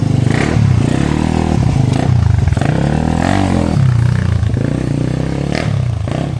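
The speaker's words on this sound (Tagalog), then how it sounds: "testing ko muna kung magugustuhan ko, matitiripan ko tong motor niya" A Suzuki Raider FI motorcycle engine roars loudly up close during a test ride, its pitch rising and falling through revs and gear changes.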